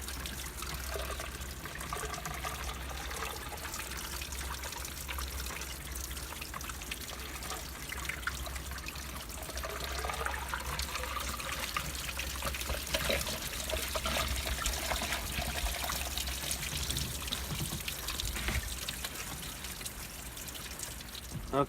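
Water mixed with antifreeze flushes out through the exhaust of an OMC 3.0 boat engine outdrive, a steady trickling, splashing flow heard close and continuous for the whole stretch, with no talk over it.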